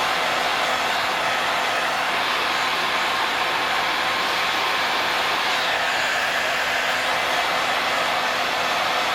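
A heat gun running at about 1,100 degrees to heat and bend a part under tension, giving a loud, steady broadband blowing roar that holds constant for the whole stretch with no talk.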